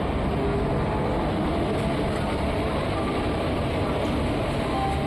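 A passenger train of Indian Railways, the Garudadri Express hauled by a WAP-4 locomotive between Tirupati and Bangalore, rumbles in a steady, continuous drone of wheels and carriage noise heard from on board, with no clear talk.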